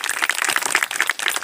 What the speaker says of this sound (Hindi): इनका तालियों से बजाकर बहुत स्वागत करें।